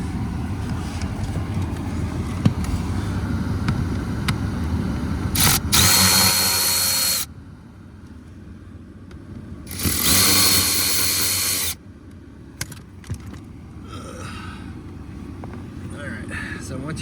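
A power driver whirs in two bursts of about a second and a half each, backing T20 Torx screws out of the cabin filter box on a 2019 BMW 430. Someone talks before and between the bursts.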